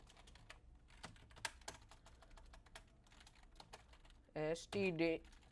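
Sparse, close taps of a computer keyboard while Python code is typed, scattered single clicks and short bursts, then someone briefly speaks near the end.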